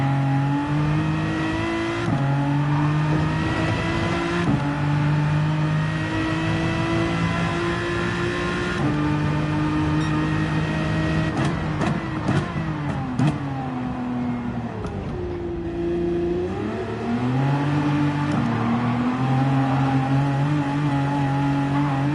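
A tuned race car drifting in Gran Turismo 7 during a time-attack session, its engine droning and revving continuously with rising and falling pitch as the car slides, loud and close throughout with no voices.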